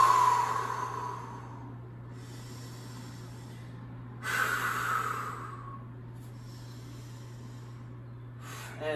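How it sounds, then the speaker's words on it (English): Deep breathing while holding a yoga plank comes as two slow, loud, close exhales with quieter breathing between them and a steady low hum underneath. "Take some deep breaths."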